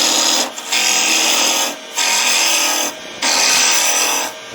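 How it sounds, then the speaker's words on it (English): A round nose scraper bites into a wooden vase spinning on a lathe, three bursts of harsh, gritty scraping, each about a second long, separated by short pauses. "from there I'm going to go to a round nose scraper"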